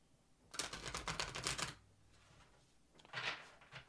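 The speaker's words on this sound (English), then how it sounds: "shuffle these." Tarot cards are shuffled by hand, giving a dense burst of riffling clicks for about a second, then a shorter flurry of soft snaps after a pause, quiet and close with no talking.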